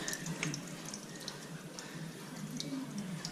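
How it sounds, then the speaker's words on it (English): Running tap water gushes steadily as something is rinsed under it, a continuous close splashing hiss with no voices. "Right, make it another rinse, and then we should be in business."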